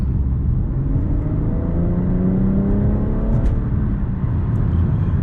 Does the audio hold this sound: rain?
no